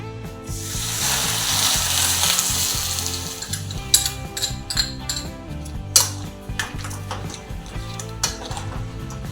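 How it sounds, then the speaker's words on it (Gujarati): Parle-G biscuits roasting in ghee with milk are stirred in a pan: a steady sizzle under repeated scraping and clinking of a spoon against the metal, with sharper knocks now and then. "અને વ્યવસ્થિત આપણે 2 થી 3 મિનિટ સુધી હલાવવાનું છે."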